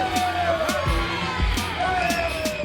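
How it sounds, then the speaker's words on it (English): Crowd cheering and whooping for Ron Waterman at a Team Impact ministry event in India, a steady roar of voices with repeated rising yells over it and no clear clapping. "Let's give Ron Waterman a big round of applause"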